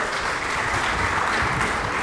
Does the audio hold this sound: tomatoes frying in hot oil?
no